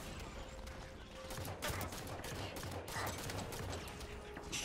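Burst rifle fire in Halo 5: Guardians sounds as rapid clustered volleys of shots repeating through the stretch, fairly faint and mixed with game ambience and effects.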